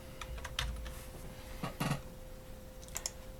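Irregular bursts of clicking keystrokes on a computer keyboard, close and fairly quiet, over a steady background hum, with short pauses between the flurries.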